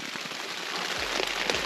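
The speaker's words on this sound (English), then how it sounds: "So it's raining now and there's a bit of wind" Steady rain falls across the whole stretch in bad weather, a dense broadband hiss of drops on surfaces with low gusts of wind swelling beneath it, continuous and fairly close, with no voices.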